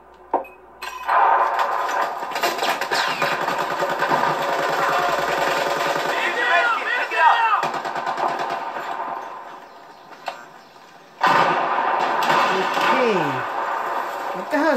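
Gunfire from a 12 gauge shotgun in a video game, loud bursts and clanks over a busy stretch with a brief lull before firing picks up again, with a voice talking throughout.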